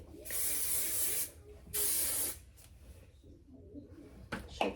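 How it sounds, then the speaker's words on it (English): Hairspray from an aerosol can hisses onto hair in two long bursts of about a second each, close and loud, followed by quieter rustling and handling noises. "I'm gonna throw some hairspray in this hair."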